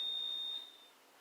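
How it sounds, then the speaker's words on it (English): A newly installed fire alarm system sounds a steady, high electronic tone that cuts off partway, faint and somewhat distant against quiet room noise. "Is that a new fire alarm system that they put in?"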